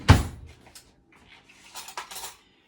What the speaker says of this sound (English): mix up the dry ingredients really good so they're not clumpy